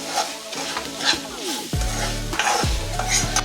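Vangi bath masala sizzles steadily in a hot pan while a spatula scrapes and stirs through it, with a couple of sharp metallic knocks against the pan, close and fairly loud.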